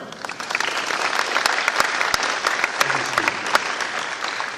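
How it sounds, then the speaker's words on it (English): A crowd at the Basketball Hall of Fame applauds steadily throughout, dense clapping from many hands, with a few sharper individual claps standing out. "And if you give a round of applause to Mr. Paul Lambert."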